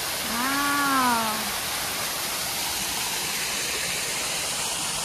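A hidden waterfall in a park rushes with a steady, even roar. A brief voice sounds over it near the start.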